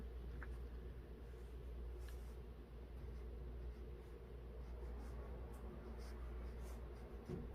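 A brush glides across paper in watercolor calligraphy, a faint, soft, continuous scratching and swishing under a steady low background hum in a quiet room.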